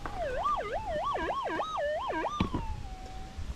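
A gold-hunting metal detector swept over a rust nugget gives a loud warbling tone that rises and falls several times, then settles into a steady fading hum after a brief knock.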